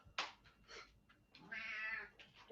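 A house cat meows several times near the microphone during a quiet senior yoga stretching session: a few short mews, then one longer, drawn-out meow and a final brief call.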